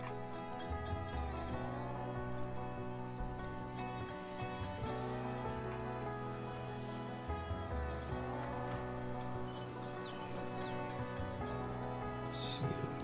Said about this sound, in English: We got Meteor Rain coming down.